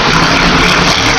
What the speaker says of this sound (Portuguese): Um barulho aí, né? Uma moto